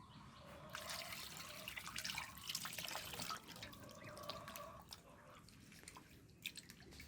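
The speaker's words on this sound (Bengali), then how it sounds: "এবার দিয়ে দেবো গরম জল।" Hot water poured over cut pangas fish pieces being washed after salt and lemon, a steady splashing trickle and drip of water continuing throughout, quiet and close with no talking.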